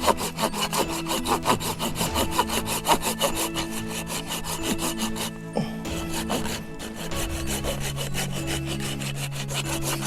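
A hand saw cuts through a fatwood log in strong, rhythmic back-and-forth strokes that rasp loudly up close, pausing briefly partway before the sawing resumes.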